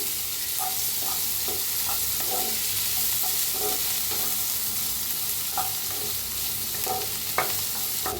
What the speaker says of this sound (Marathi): तेल ओतून थोडंसं भाजून घेऊया